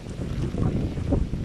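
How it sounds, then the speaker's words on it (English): Strong wind roars continuously into the microphone outdoors during a 40 mph wind advisory, a dense low rumble of gusts with rain, loud and steady throughout. "Wind is blowing, rain."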